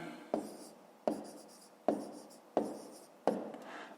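A pen writes on paper during a fifth-grade math exercise on dividing by 13, five distinct scratching strokes at roughly even intervals, close and quiet, with no voices.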